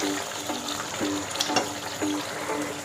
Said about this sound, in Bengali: দেখুন খুব সুন্দর কষানো হচ্ছে